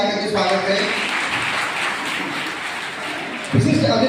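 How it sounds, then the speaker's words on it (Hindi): An audience at a college annual function applauds to welcome the chief guest, a sustained crowd clapping wash lasting a few seconds, with someone speaking at the start and the end. "सर का आप लोग ताली बजाकर के स्वागत करें।"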